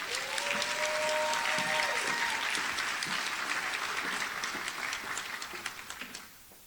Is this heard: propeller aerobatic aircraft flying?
no